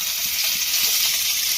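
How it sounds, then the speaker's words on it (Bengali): Chopped large tomato dropped into hot white oil in a tawa, a steady loud hiss of frying held close throughout, with faint stirring beneath and no talk. "তেলটা বেশ গরম হয়ে গেছে, এখানে দিয়ে দেবো আমি একটা কেটে রাখা বেশ বড় সাইজের টমেটো"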